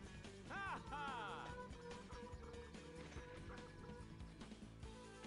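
Brief warbling fowl calls from a rooster in the RPG video game Three Heroes, heard early and partly masked by busy game music and effects.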